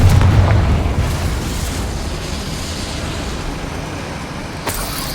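The Confringo spell in the video game Hogwarts Legacy erupts as a loud, close fiery blast that opens with a heavy boom and rumble, then decays into a long, sustained roar.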